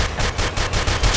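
Rapid gunfire from the blocky multiplayer shooter game Ace of Spades, a dense continuous burst of repeated shots with steady rhythmic pulses, loud and close, with no talking over it.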